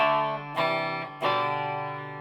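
Clean electric guitar chords from an Ibanez PGM30 on the bridge humbucker, through an Orange TH30 amp, ring out, struck three times and left to sustain and decay, close and fairly loud with no voices.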